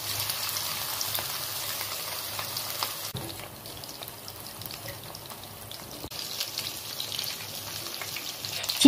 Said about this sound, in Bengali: তেলটা যখন গরম হয়ে গেছে তারপর চিকেনগুলোকে আস্তে আস্তে হাতের সাহায্যে ছেড়ে একটা একটা করে ভেজে তুলে নিয়েছি